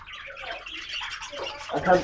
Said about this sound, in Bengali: আমরা এখানে দেখতে পারতেছি যে কিছু পাখি মানে এইখানে কিছু পাখি আছে